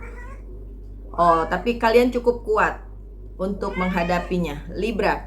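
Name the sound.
cat meowing while playing with another cat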